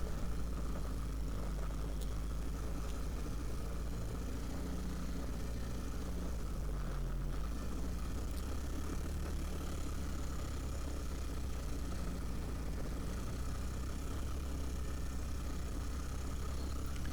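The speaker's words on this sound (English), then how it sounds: "Just love listening to that exhaust note, you know, hearing how the engine is responding to my input as the rider." A steady, droning ATV engine exhaust runs throughout a sedate trail ride, a constant low rumble with only slight shifts in pitch and no break, moderately loud and close.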